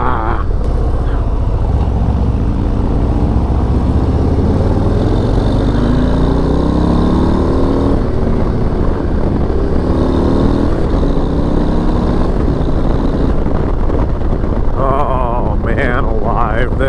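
A 2022 Harley-Davidson Low Rider ST with its big 117 motor rumbles steadily at riding speed, with heavy wind buffeting throughout. A rider's voice comes through faintly over the engine.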